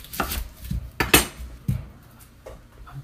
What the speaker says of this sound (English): Let's get this onion. I'll just cut it first. Cut it right down the middle this way.